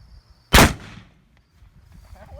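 A single loud, sharp report from a .44 caliber blackpowder pistol fired outdoors, an abrupt blast that decays over about half a second into quiet.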